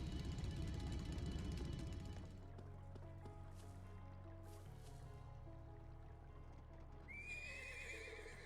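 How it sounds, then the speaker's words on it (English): A horse whinnies faintly in the distance in the video game Trails of Cold Steel II, over a low ambient hum, with a brief higher cry near the end. "Was that a horse?"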